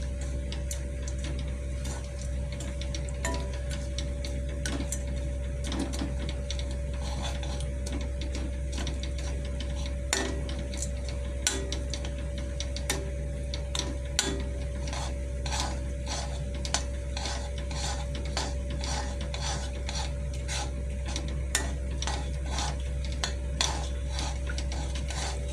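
A spoon stirs thick, caramelising sohan halwa in a pan, giving continuous close scraping and clicking against the metal over a steady low hum, with no speech.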